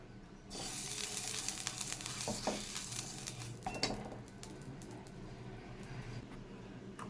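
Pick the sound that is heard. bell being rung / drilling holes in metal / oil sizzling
oil sizzling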